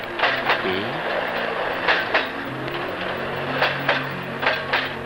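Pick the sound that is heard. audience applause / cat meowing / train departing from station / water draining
train departing from station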